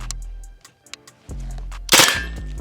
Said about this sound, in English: Let's let her rip. Let's just go full auto.